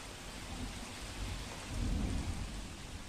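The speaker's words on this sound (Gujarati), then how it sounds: "ધોધમાર વરસાદ છે" Heavy monsoon rain pouring steadily in Surat, a dense broadband hiss with low rumbling swells, no voices.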